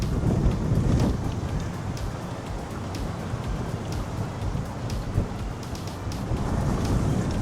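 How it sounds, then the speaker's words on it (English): A strong wind blows outdoors, a steady roar of buffeting gusts that batter the microphone throughout with no clear pauses. "This wind is ridiculous."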